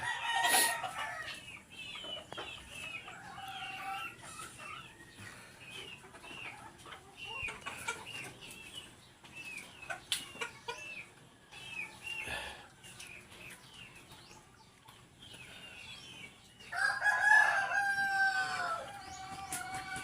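Sweater cross hatch gamefowl roosters crowing and clucking in a yard on a morning, several birds calling repeatedly near and farther off, with one loud crow standing out toward the end.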